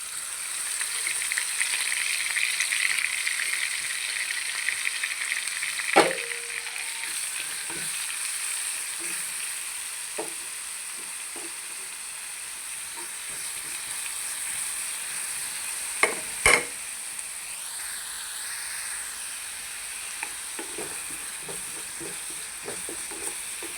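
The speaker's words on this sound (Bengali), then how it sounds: "ভালোভাবে লাল করে নেব দিয়ে দেবো পেঁয়াজ" Onions frying in hot oil in a pan, a steady hiss and sizzle with occasional sharp scrapes and taps of a spoon stirring, fairly close and unbroken by talk.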